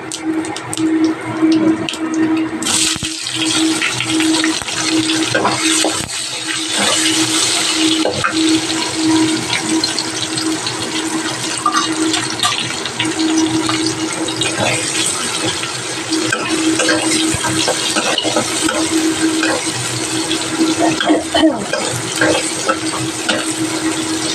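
Onion frying in hot oil with cumin seeds, a steady loud sizzle that runs unbroken throughout with a faint hum underneath, after the eggs and potatoes have been fried.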